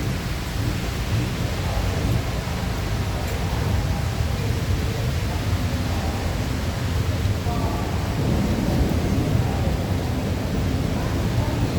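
Heavy rain pours down at night in a dense, steady roar, loud and continuous, with occasional low rumbles of thunder mixed in.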